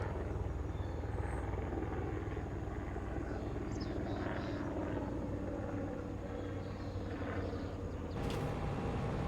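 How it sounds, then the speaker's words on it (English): A steady, distant helicopter rotor drone hangs over a farm during harvest, continuous and fairly faint, with no voices. "It's a helicopter."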